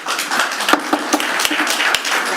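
Scattered clapping from an audience at a township board public hearing, a short run of uneven claps in a reverberant meeting room, loud and close, with no voices over it.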